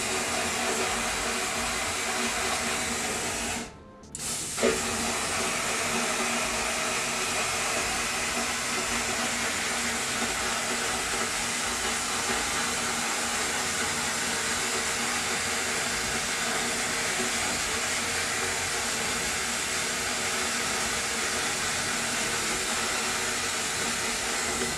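A vapor honing cabinet blasts a glass bead slurry to strip anodize from a metal part. It gives a loud, steady hiss that runs almost without change, broken only once by a brief pause near the start.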